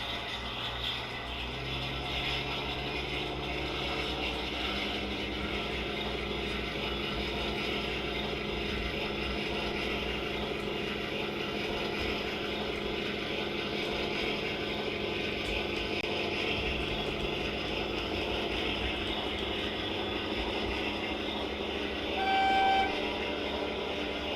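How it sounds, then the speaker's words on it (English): A model locomotive runs continuously with a loud, steady mechanical drone and whine, and a brief horn toot sounds near the end. "The loudest Loco I have ever had running around on any layout at all."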